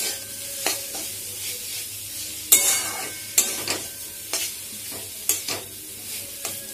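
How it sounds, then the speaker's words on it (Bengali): Chopped radish frying and being stirred in a pan for a home lunch curry, with a low steady sizzle broken by several sharp scrapes and clanks of a spatula at irregular intervals. "এবার এটাকে একটু ভাজা ভাজা করে নেব"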